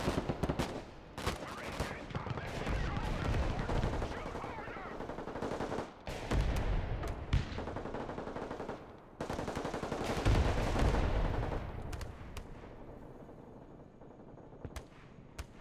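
Dense gunfire and machine-gun bursts in the video game Broken Arrow, with sustained rattling volleys and heavy booms that thin out toward the end, under occasional faint voices.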